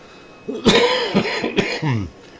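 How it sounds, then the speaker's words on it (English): Several harsh coughs close to the microphone, a quick burst followed by another cough and a throaty rasp. "Sorry for the coughing."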